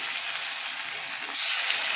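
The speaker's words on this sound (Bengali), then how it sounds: "তেলের উপরে একটা একটা করে ছেড়ে দিচ্ছি" Marinated chicken 65 pieces drop one by one into hot oil in a wok, and a steady, soft frying hiss swells louder partway through.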